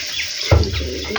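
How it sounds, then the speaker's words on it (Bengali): Broth poured into a cooking pot, a short splashing pour that begins abruptly and runs for under a second, close and fairly loud, followed by faint trickling. "ঝোল দিয়ে দিলাম।"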